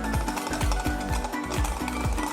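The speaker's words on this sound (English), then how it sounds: "keep whisking properly so that it doesn't split" A saffron aioli being whisked as oil is added, a whisk beating against the bowl in a quick, steady rhythm of about two strokes a second, close and fairly loud.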